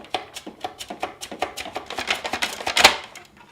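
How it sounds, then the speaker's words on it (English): A potato pressed in a hand guard is pushed across a mandoline blade for gratin dauphinois, giving a quick, steady run of about fifteen crisp slicing strokes that speeds up slightly toward the end, close and clear with no talk. "take the potato, put it onto the hand guard, and we'll just start taking it right across the blade"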